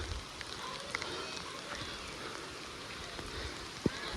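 Rain falls steadily at a home, a faint, even hiss with a few scattered drips and ticks close by.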